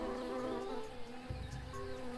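Buzzing bees in the Tales of Monkey Island video game, a steady continuous drone of insect wings held at an even level throughout with no voices over it.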